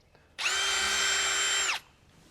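A power drill fitted with a paddle bit bores through a wooden fence post. It runs as one loud, steady, high-pitched whine for about a second and a half, starting and stopping sharply.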